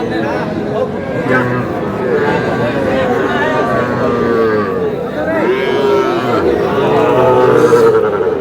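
Cattle and calves moo repeatedly, low and drawn out, amid a busy cattle-market crowd of voices and chatter at close range.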